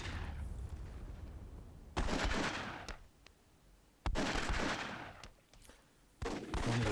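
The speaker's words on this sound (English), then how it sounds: "Nice gunshot there from Karma, taking out, I think" Gunfire in the strategy game Myth II Soulblighter at a WWII tournament, three loud bursts of sharp cracks and rumbling blasts separated by quieter gaps of battle ambience.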